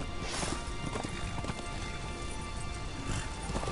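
Galloping horse hooves in the video game Darksiders, a rapid, steady clip-clop rhythm under continuous game noise, fairly loud and close throughout.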